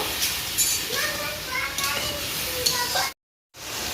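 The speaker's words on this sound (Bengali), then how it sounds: "আর দেব লবণ আর দেব হলুদ গুঁড়া ভালো করে আমি একটু ভেজে নেব" Duck meat frying in a pan with salt and turmeric gives a steady hissing sizzle, with voices talking over it before the sound briefly cuts out.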